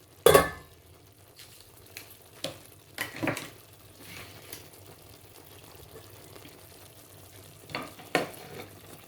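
Vegetables tipped into a frying pan while cooking Chinese rice and beef sauce set off a burst of sizzling and clatter at the start, then quieter frying with a few stirring knocks and another clatter near the end.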